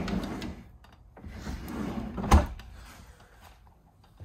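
Freezer drawers of a refrigerator in a 2024 Jayco Eagle fifth-wheel trailer sliding and closing, soft rumbling movement followed by one sharp thud near the middle, close and without talk.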